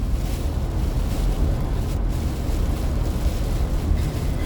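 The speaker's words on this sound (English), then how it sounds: "most of the water that's hitting my windshield is coming off this truck that's in front of me" Heavy rain and road spray from a truck ahead pelt a car windshield while driving through Tropical Storm Debby in North Carolina, making a steady, dense roaring wash with no pauses.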